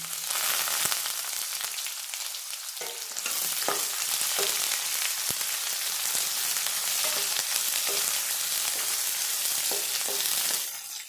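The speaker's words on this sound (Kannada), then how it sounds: "ಫ್ರೈ ಆಗ್ತಾ ಇದ್ದಂಗೆ ಸಣ್ಣದ ಕಟ್ ಮಾಡಿರೋ ಒಂದು ಈರುಳ್ಳಿನ ಸೇರಿಸ್ತಾ ಇದ್ದೀನಿ" Finely chopped onion fries in a pan of hot oil for a spinach palya, a loud continuous sizzle with occasional soft stirring knocks and no voices.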